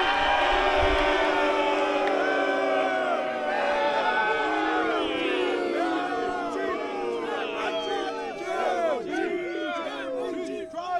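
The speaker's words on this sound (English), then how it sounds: "A divided crowd for Roman Reigns," Wrestling arena crowd at a televised WWE Raw event reacting to an entrance, with loud sustained mixed cheers, boos and shouting from a large audience filling the space, dense and continuous throughout.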